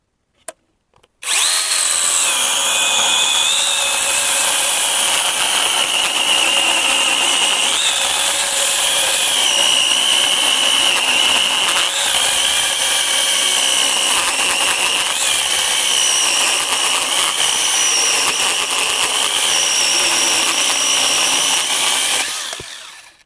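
A Grosser GCS 860S cordless chainsaw cuts through dry elm wood, a loud, sustained high-pitched motor whine with steady cutting load for about twenty seconds, starting and stopping abruptly.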